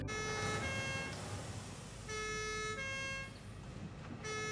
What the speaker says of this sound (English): you can left click to enable the siren.